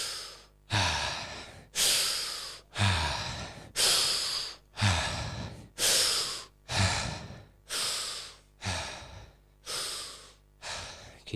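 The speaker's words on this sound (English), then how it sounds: "Big breath in and out." Deep breaths in and out during a guided breathing session, about eleven strong rhythmic breaths at an even pace, each a loud airy rush close to the listener, separated by brief pauses.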